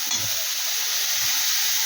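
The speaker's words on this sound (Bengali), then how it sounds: "এটাকে দিয়ে একটু ভালো করে একটু ভাজা ভাজা করে নিন, কাঁচার গন্ধগুলো যেন সব চলে যায়" Coriander powder and other spices fry in a pan, giving a steady, even sizzling hiss that runs unbroken throughout with no voices.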